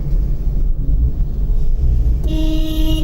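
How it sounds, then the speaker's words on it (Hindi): A car horn sounds loudly near the end at a blind turn on a mountain road near Nainital, a sustained honk over the steady rumble of a moving vehicle's engine. "ब्लाइंड टर्न है, हॉर्न बजा दिया"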